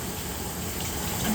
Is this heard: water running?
yes